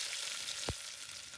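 Garlic sizzles in hot oil with mustard seeds, a bright steady hiss with one sharp knock from a utensil midway, near and without voices.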